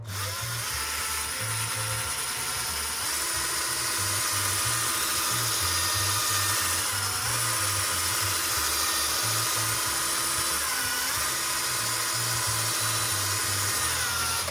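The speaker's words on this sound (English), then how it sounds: "Just going to use a drill for today." A power drill polishing a guitar headstock runs steadily and continuously, whirring close by with a constant high-pitched hum for the whole stretch.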